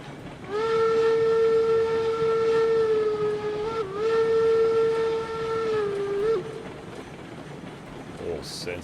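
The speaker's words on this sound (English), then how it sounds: "A little senseless whistle blowing at the smelter, why not?" A train whistle in the video game RailRoads Online blows one long steady blast lasting several seconds near a smelter, with a brief dip in the middle, loud over a low rumbling engine.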